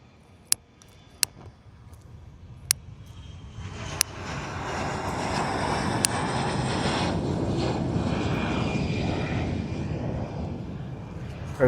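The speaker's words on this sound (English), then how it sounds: "Here comes another plane." An airplane flies overhead, building from a faint distant drone into a loud, sustained engine roar that holds to the end. A few sharp clicks sound early on.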